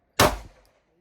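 A Glock 43X pistol fires a single sharp shot, loud and close, with a quick crack that tails off into a short decaying echo before silence.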